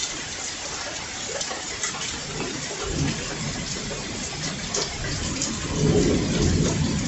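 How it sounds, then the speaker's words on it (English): Heavy rain pours steadily in Flint, Michigan, a dense continuous hiss with low rumbles of thunder swelling midway and again near the end, no one speaking. "Rain bomb again."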